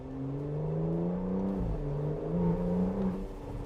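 An Aston Martin DBS Superleggera Volante sports car pulls hard under acceleration, its engine note rising steadily and then shifting pitch partway through as it keeps building. The engine is heard alone with no talk.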